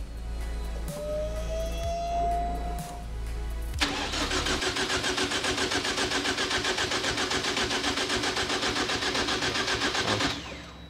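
A Vuhl sports car engine cranks with a whirring starter, then catches and fires into a loud, steady, buzzing idle close by, cutting off abruptly near the end.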